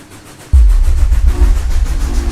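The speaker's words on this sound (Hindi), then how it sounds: "और तभी हवा में एक पुरानी सीटी गूंजी, लंबी, टूटी," An old train engine rumbles in abruptly and holds steady, a loud low-pitched drone with faint rhythmic rail clatter, used as a horror-story sound effect; no whistle stands out clearly.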